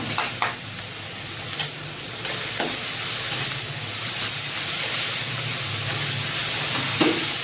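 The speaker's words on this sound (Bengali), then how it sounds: "এবার দিয়ে দেবো এখানে রসুন বাটা।" Sliced onion with garlic paste sizzling in hot oil, making a continuous close hiss punctuated by a few sharp spatula scrapes and taps against the pan, with no talking.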